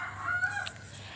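A chicken clucks and calls in a short burst, fairly faint and set against a steady low background hum.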